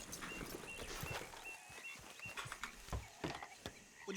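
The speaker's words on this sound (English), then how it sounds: "I didn't mean to jump on my horse." Hooves of a horse in Red Dead Redemption 2 clip-clop at a slow walk, quiet and fairly close, with uneven thuds over soft ambient game noise.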